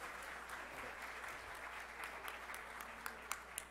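An audience at a formal ceremony in the São Paulo legislative assembly gives a round of applause, a continuous, fairly faint patter of many clapping hands with a few sharper claps toward the end.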